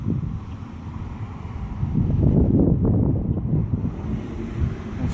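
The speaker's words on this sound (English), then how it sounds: "It's windy out here today" Wind buffeting a microphone outdoors during a vinyl decal installation on a Camaro hood, a low rumbling roar that swells in the middle and eases off toward the end, with no voices.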